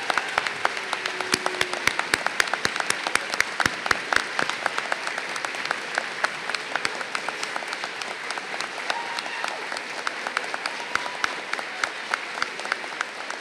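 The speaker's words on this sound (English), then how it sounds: "let's give all of our educators a round of applause." Sustained applause from an audience at a North Dallas High School ribbon cutting and centennial ceremony, dense steady clapping lasting throughout without a break.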